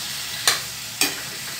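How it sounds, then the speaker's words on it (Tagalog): Pork humba, braised pata, being stirred in a pan: two brief scraping strokes of a utensil against the pan over a steady low hiss, fairly close, with no voices. "Haluin lang natin para mag-balance ang kanyang kulay."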